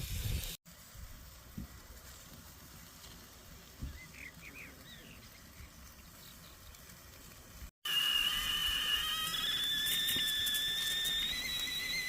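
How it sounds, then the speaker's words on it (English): A kettle on a camping stove lets out a steady high whistle in the latter part, after a quieter outdoor stretch with faint bird chirps. "Yes, a kettle whistles"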